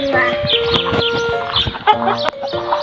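Several chickens cluck and squawk close by in quick, uneven bursts, with a short harsher call near the end, in a village setting.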